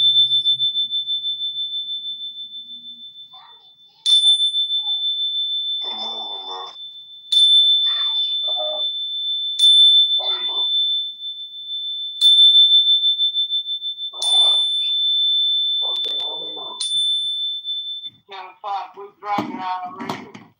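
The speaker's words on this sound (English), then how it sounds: "it's like my sound attack on people. It's my Zen Bell weapon." A bright, sustained high ringing tone runs throughout, struck again several times at intervals, with scattered voices and background noise beneath it.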